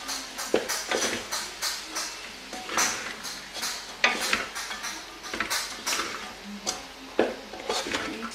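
Vegetables being mixed in a pot, a spoon clanking and scraping the metal in a quick irregular rhythm with occasional sizzle, close and fairly loud, with a voice speaking briefly.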